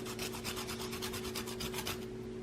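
Lime zest is grated on a microplane, a steady rhythmic rasping of about a dozen quick back-and-forth strokes, close and fairly quiet, stopping just before the end.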